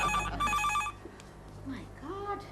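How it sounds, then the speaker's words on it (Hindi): A telephone rings loudly in two quick bursts of bright electronic tones, then stops as a voice begins speaking over a quiet room. "फोन पे फोन, फोन पे फोन।"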